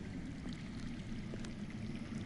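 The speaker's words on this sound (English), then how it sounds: "I hear water. From underground." Underground water flows in a Game of Thrones video game as a faint, steady rushing trickle, muffled and distant, with no voices over it.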